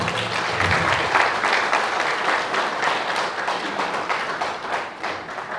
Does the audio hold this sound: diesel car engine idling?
no